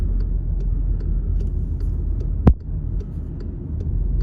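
A vehicle drives along toward a field at sunflower sowing time, giving a steady low engine rumble with road noise and a single brief thump partway through, with no talk.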